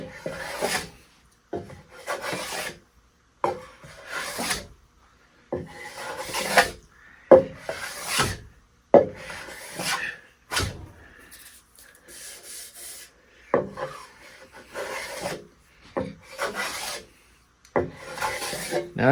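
A Bridge City hand plane shaves soft cedar wood in a run of short, rasping strokes, each a close scratchy swish separated by brief pauses, with a few quicker strokes near the end.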